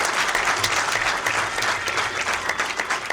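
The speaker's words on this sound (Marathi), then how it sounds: "पुन्हा जोरदार टाळ्या व्हायला पाहिजे." An audience claps loudly and continuously at a felicitation ceremony held by a bar association, a dense burst of applause filling the hall with no voices over it.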